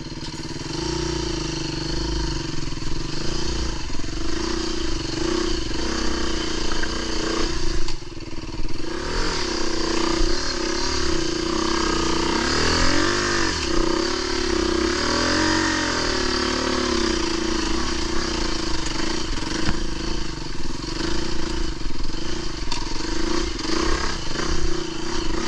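A Fantic enduro motorcycle is ridden off-road, its engine droning loud and close throughout, held high in the revs with steady surges and clattering from the terrain.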